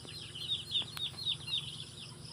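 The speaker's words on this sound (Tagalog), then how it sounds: "Pati yung mga manok, nasali na rin dito sa loob." Chickens in a pen alongside ducks, giving a run of soft, repeated clucks and chirps at a steady pace, moderately close, with no voices over them.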